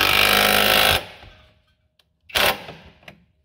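Leaf spring bolts being tightened on a Fiat Uno: a loud, continuous burst of power-tool whirring and hammering for about a second, then quieter clanks and a second shorter burst near, no talk.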